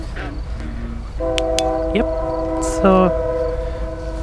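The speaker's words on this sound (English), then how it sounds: "Now there's a train ruining everything." A train rumbles past with several loud horn blasts, while people speak a few words nearby.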